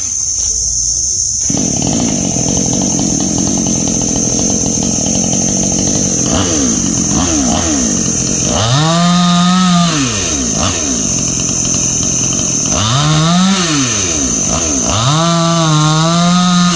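Chainsaw cutting a tree in 37°C heat, a loud close engine whine throughout, rising and falling in pitch as the saw bogs into the wood and revs back up, several cutting pulls in sequence.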